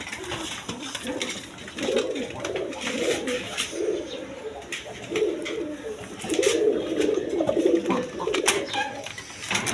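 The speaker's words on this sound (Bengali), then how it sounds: "দর্শকবৃন্দ এখানে এক পেয়ার কালদম কবুতর আছে ডিম নিয়ে বসে রয়েছে" A pair of Kaldom pigeons sitting on eggs coo in repeated low, throaty rolls throughout, close by, with scattered bird calls and faint background noise.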